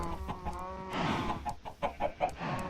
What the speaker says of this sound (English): Oh, look at that. It's got a baby chicken.